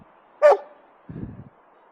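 A reactive dog gives one sharp, close bark, followed by a short, low whimpering or grumbling sound, with quiet pauses around them.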